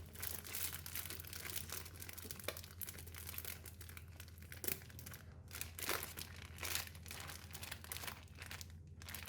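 A plastic bag holding pork belly in soy sauce crinkles and rustles as it is handled and tied with a rubber band, soft close crackling in short bursts over a low hum.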